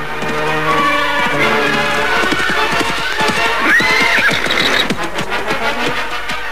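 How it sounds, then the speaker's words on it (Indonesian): Hooves clatter irregularly on hard ground as a carriage horse whinnies loudly over them, the clopping slowing and thinning out toward the end as the horse-drawn carriage stops. "Kereta kuda itu berhenti."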